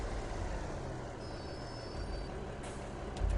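A truck in Truck World Australia idles with a low engine rumble, then its parking air brake releases a short burst of hiss near the end.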